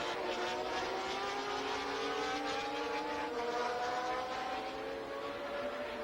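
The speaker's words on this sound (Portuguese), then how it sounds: "E o carro número 3 de Didier Pironi, da França." A Formula 1 race car engine screams at the Swedish Grand Prix, its high, steady whine climbing in pitch as the car accelerates, with loud, continuous racing noise and no voices over it.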